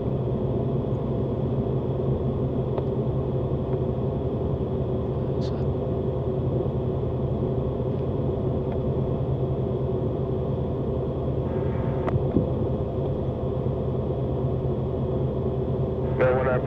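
Twin Cessna aircraft engines running steadily with their RPMs matched, a continuous close droning rumble with a layered harmonic hum that holds evenly throughout.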